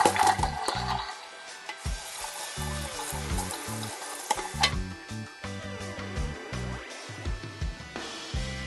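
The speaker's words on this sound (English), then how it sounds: "we're gonna go to the sink and dump this out" Oxtail soup broth is poured out into a kitchen sink, a steady close splashing and gurgling of liquid running into the basin with clattering knocks, no talking.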